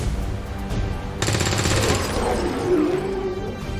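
A burst of gunfire in XCOM 2 cuts in loud and close, with a sustained crackling rattle and a whooshing effect tailing off under the game's ambient sound.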